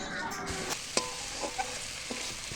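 A spoon stirs spice masala frying in a pan with chopped tomato, whisked sour yogurt, turmeric, Kashmiri chili powder, salt and a little sugar for a papaya curry. A steady, close sizzle continues under occasional scraping strokes, with no talking.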